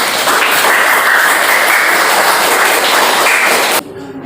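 Classroom applause from students after a group presentation on the distribution of fauna in Indonesia, dense and sustained clapping filling the room for nearly four seconds before cutting off abruptly.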